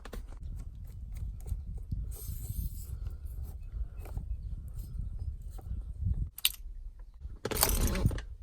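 Tire on a 2004 Volkswagen Jetta being pumped up with air, rhythmic low thumping pump strokes with short bursts of hissing air, close and repeated.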